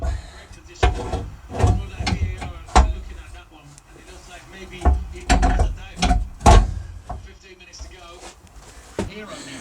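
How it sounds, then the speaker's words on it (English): Metal clunks, ratcheting and knocks from fitting an offset swivel onto the seat base in a Fiat Ducato camper van conversion, loud and close, with irregular repeated bangs and scraping through the clip. "I'm now going to stick the swivel onto the seat base"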